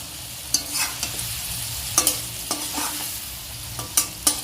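Curry stirred in a hot pan, with repeated scraping spoon strokes at an uneven rhythm over a soft continuous sizzle, close and with no voices.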